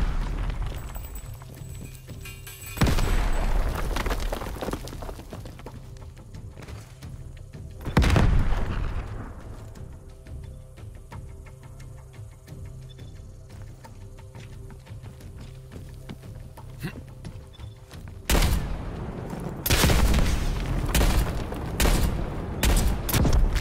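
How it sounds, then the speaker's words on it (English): Gunfire in a one-on-one video game gun match, a few loud separate shots and bursts spread across a quieter game background, with a cluster of rapid shots toward the end. "Why am I shooting? Why am I shooting?"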